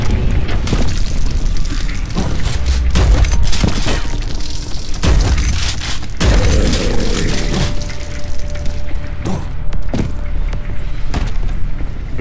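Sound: super rocket launcher firing in Prodeus video game

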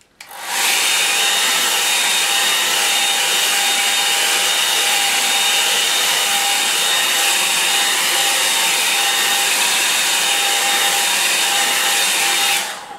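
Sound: hair dryer drying a painting

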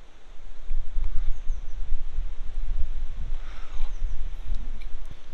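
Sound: wind blowing outdoors into an iPhone external microphone

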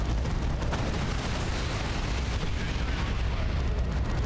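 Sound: tank destroyed in video game Dawn of War 2

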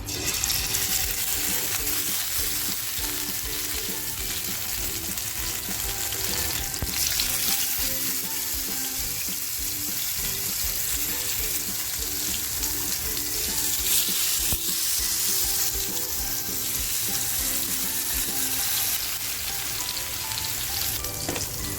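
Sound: fish frying in hot oil

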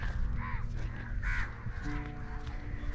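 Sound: crows cawing at sea fort

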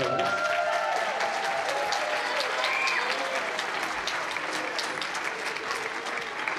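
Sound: audience applause for the high school band at a concert

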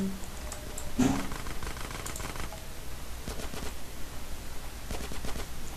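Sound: dual pistols firing in GTA San Andreas video game

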